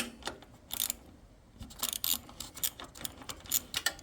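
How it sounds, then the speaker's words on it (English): An 11mm ratchet undoes a bolt on a Mountfield 1740h ride-on mower, giving quiet, rapid clicking bursts with small metallic taps in between, heard up close. "so 11mm on a ratchet, just undo it"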